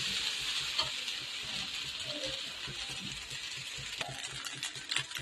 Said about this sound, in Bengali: এবারে ভাতটা দিয়ে দিচ্ছি, এই যে নাড়াচাড়া করবো